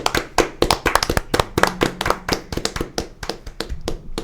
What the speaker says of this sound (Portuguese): Eu queria uma salva de palmas aqui para os nossos convidados, nossos mentorados mais novos aqui